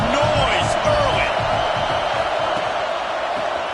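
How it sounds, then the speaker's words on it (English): Stadium crowd noise in the Madden 26 football video game, a steady loud roar of cheering fans filling the clip, with a commentator's voice over it. "This crowd bringing the energy and noise early."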